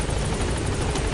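The Pequod helicopter from the video game Metal Gear Solid V: The Phantom Pain gives a loud, steady rotor roar that fills the whole moment without a break, with no talking over it.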